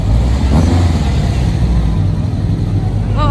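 Cars pulling away on a London street in December, a steady low engine rumble and road noise filling the scene, with a faint voice and a brief whistle-like tone near the end.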